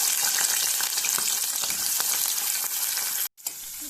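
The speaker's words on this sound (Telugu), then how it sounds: "ఇప్పుడు దీనిలోకి పెద్ద ఉల్లిపాయ ముక్కలను వేసేసుకుందాము." Large onion pieces fry in hot oil with tempering seeds for a mixed vegetable curry, a loud, dense sizzle running steadily before a sudden brief drop, then resuming more quietly.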